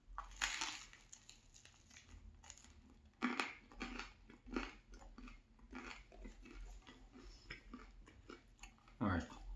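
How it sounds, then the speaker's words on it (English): A crunchy buttered baguette is chewed up close, with irregular crackling bites and crunches over soft mouth sounds and some background noise. "Nice crunchy baguette with butter."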